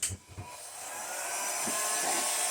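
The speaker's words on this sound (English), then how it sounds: "And I like the way this dryer is blowing." A dryer blows air steadily over poured purple paint, a faint, even whooshing hiss that settles in after two soft thumps at the start.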